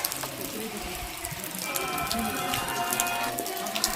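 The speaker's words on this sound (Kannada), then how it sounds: "ಫುಲ್ ಜೋರು ಮಳೆ ಬಂದತಿ" Heavy rain pours down at Yellur Fort, a dense continuous hiss of drops hitting surfaces, with faint background murmur underneath.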